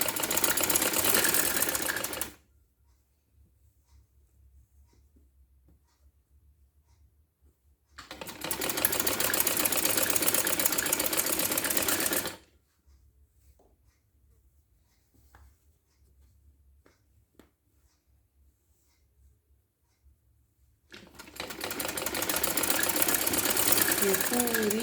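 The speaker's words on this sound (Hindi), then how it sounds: "अब हम इसमें सिलाई करने जा रहे हैं।" An electric sewing machine stitches the seam of a girl's trouser in three loud, steady runs of a few seconds each, separated by long quiet pauses.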